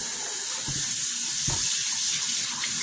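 Cold tap water runs in a steady, bright hiss while chicken drumsticks are rinsed of salt and lime juice, with a couple of soft knocks from handling in the sink.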